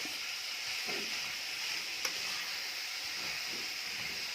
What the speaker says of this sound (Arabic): اشوح اللحمه كده حلوه قوي مع البصله والفلفل الاسود